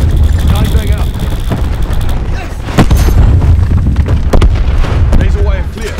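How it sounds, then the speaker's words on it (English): Rapid-fire rocket launcher blasts in Call of Duty Black Ops 4 multiplayer, heard as loud, close booms and explosions rolling into one another in a heavy, continuous barrage, with voices talking under the noise. "I got rapid fire rockets."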